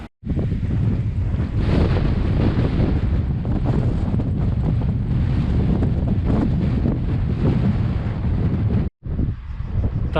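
A cold, powerful stream of fresh water gushes steadily and loudly close by on a mountain roadside in Albania, with a brief break near the end.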